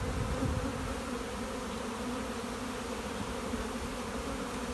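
Honey bees cluster on the comb of an open hive, their dense, steady buzzing droning close and continuous with no voices over it.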